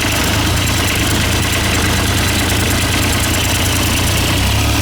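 A warm John Deere 430 lawn tractor engine with a bad solenoid runs at a steady, loud idle, its low rumble and knocking continuous and close throughout, with no talk.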